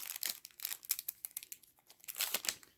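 Plastic packaging of an Amazon Fire Stick being unwrapped, a close burst of crinkling and crackling with brief tearing rustles, loud and irregular, with no talking.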